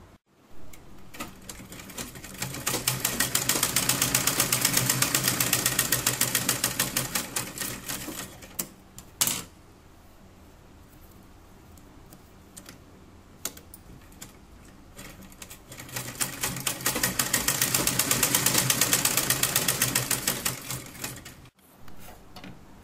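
Sewing machine stitching fabric for the corners of a cap, running in two long steady rapid bursts with a quieter pause of handling clicks between them, close up with no talking.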